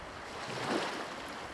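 Steady wash of surf with a soft swell that rises and falls, waves breaking on a shore with some wind noise, no voices.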